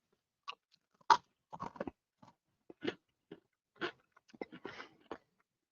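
Someone bites and chews baked-potato-flavoured potato sticks, giving a series of sharp, close crunches in separate bursts with quiet gaps between them.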